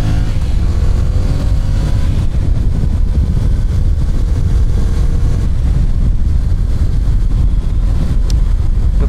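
A 2023 Yamaha MT-07 motorcycle engine, loud steady droning with a low rumble, some pitch shifts as it accelerates, and wind noise buffeting the microphone throughout.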